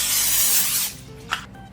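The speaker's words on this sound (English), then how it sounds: "I'm gonna spray that with a little bit of the cooking spray." Cooking spray hisses from a can into a 13 by 9 inch casserole dish, a close, loud burst lasting under a second, then a brief faint clink.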